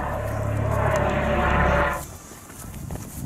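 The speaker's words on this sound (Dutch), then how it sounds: "Helikopter!" Helicopter passing overhead, a loud broad rotor-and-engine roar with low throbbing that holds steady for about two seconds, then cuts off abruptly, leaving quieter outdoor ambience.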